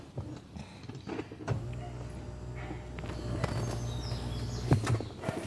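The seat of a Chevrolet S10 pickup slides back inside the cab with a short run of mechanical clicks and a low whirring rattle, close by, with a few knocks before and after.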